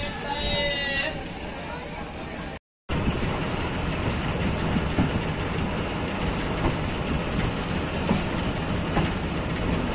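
Fareed Express passenger train pulling out of Bahawalpur station in Pakistan, a steady loud rumble of rolling wagons with a high whine, continuous throughout apart from a brief gap, with someone speaking over it.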